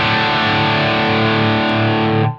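Guitar through a Line 6 Helix ADT doubler with saturation at zero and texture fully up: a sustained, thick, distorted chord rings loudly and evenly, then cuts off abruptly.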